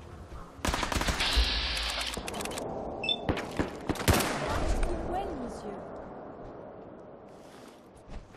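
Gunfire in the video game Fallout 4, a loud burst of rapid automatic fire followed by a few sharp single shots and a big impact, then fading rumble.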